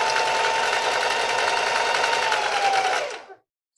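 A sewing machine stitches fabric in a steady, loud, rapid mechanical whir for about three seconds, then stops abruptly.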